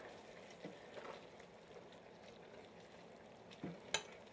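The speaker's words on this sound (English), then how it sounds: "let me go ahead and put our noodles in. And we're going to stir those up." Noodles being stirred in a one-pot pasta dinner: faint liquid sloshing and soft sizzling with a few scraping clinks of the utensil against the pot, quiet and close.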